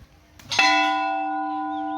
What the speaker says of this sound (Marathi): इथे किती मोठा घंटा आहे